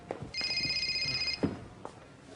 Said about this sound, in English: Steve, your phone.